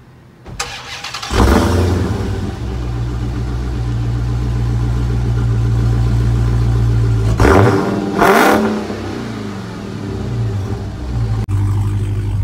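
A Hummer engine cranks and starts, then idles with a deep steady rumble, revving sharply twice before settling back to idle.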